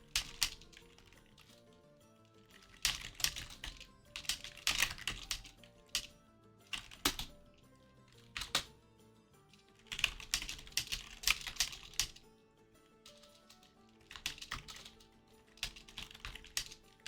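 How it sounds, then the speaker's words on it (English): Someone types on a computer keyboard in quiet, uneven bursts of rapid clicking and clacking, separated by short pauses and a few sharper single key strikes, fairly close with no voices. "typing on Discord of like who's gonna get streamed"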